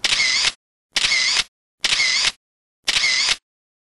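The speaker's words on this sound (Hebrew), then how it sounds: "יכולתי לצלם אותו צילום רציף בזמן אמת" A Samsung S179 compact camera fires in continuous shooting mode, giving four loud, evenly spaced mechanical bursts about half a second long, with silence between them.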